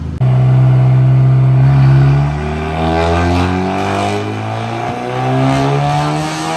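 A tuned VW Golf R making around 500 wheel horsepower revs loudly up close. Its engine note climbs and falls in smooth sweeps, holding at high revs before easing off, with no talking over it.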